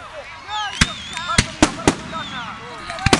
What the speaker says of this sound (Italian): Siamo arrivati i fuochi.